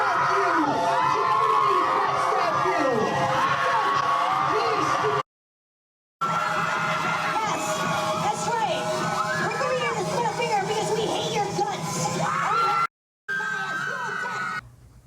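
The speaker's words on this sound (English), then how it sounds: "can you imagine having tons of people just screaming at you out of nowhere?" A large crowd screams and yells continuously at a loud, dense level for several seconds, cutting out abruptly twice before resuming.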